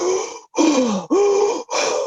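Heavy open-mouth breathing imitating a beach breath work exercise, three long loud breaths with groaning, rasping tone separated by short gaps, close and alone.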